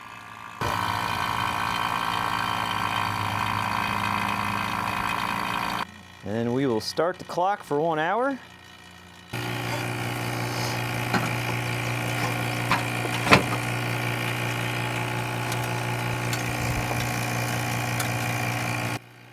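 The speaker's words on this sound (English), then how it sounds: "Fire the pump up, and hopefully we get a vacuum up here on the gauge." An AC vacuum pump runs with a steady, loud mechanical drone on the air-conditioning system of a 2015 Toyota Highlander during a DIY compressor change. It cuts out briefly while someone speaks, then resumes at an even level.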